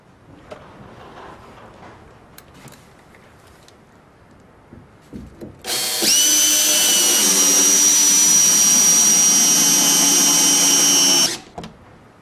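A power driver drives a long SPAX screw through a board into a beam, a loud, steady high-pitched whine of about six seconds that starts and stops abruptly, preceded by quiet handling sounds.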